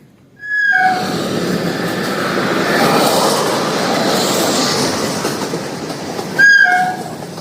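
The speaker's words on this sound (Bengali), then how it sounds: "অ্যানাউন্স করা হলো ট্রেন আসছে দুই নম্বর প্ল্যাটফর্মে" A train pulls into a railway station platform with a loud, close, steady rolling rumble of wagons. Short tonal horn blasts sound near the start and again near the end.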